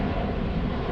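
An airliner flies overhead near Eagle Farm in Brisbane, Australia, a steady, broad roar that lasts the whole brief moment, with no talking.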